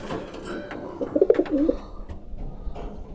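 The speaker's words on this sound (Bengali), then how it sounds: "এখানে এক জোড়া কবুতর আছে, দেখেন" Pakistani Teddy pigeons, a pair, coo close by in a short low throaty burst of a few notes, over quiet room noise.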